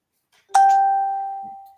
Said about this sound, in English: the bell just came on